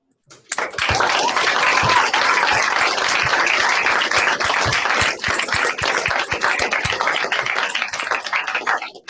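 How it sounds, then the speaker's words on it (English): An audience at a Pro Football Hall of Fame event applauding for Art Monk, a dense, sustained round of clapping that starts abruptly and continues loudly from a crowd nearby. "join me in giving a warm round of applause"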